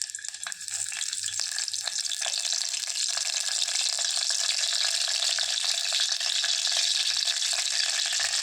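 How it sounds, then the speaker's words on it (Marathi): Curry leaves crackle and spit in hot oil while tempering a Marathi amti, a dense, steady frying sizzle with sharp pops that fills the whole stretch without pause, close and fairly loud, with no voices. "कढीपत्ता तडतडला"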